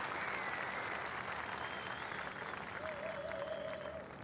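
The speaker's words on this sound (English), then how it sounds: "applause here at Hagley Oval" A cricket crowd at Hagley Oval claps during a Test match, a steady spread of distant applause that slowly fades, with a brief tonal sound near the end.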